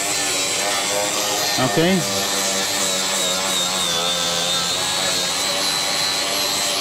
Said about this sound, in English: So I use a grinder and I remove it around the vent pipe, like that.